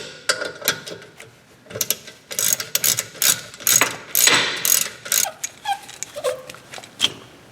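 A hand ratchet loosens the Torx brake caliper bolts on a BMW E46, giving close, sharp clicking in quick repeated runs with brief pauses between strokes.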